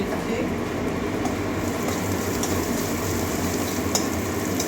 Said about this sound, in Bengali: একটু ভেজে নিচ্ছি